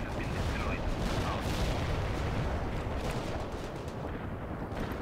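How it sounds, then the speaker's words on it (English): Artillery strikes rumble and crash in the World in Conflict war game, a dense, loud wash of booming explosions and gunfire that holds steady throughout, with a voice talking over the barrage. "Bringing in more with artillery strikes."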